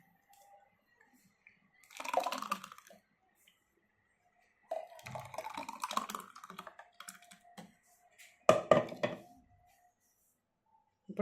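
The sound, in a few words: pouring watermelon juice over soaked sabja seeds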